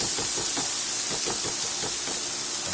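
Garlic, shallots and peppers sizzle steadily in a hot pan, a loud, dense hiss that runs without a break from start to end.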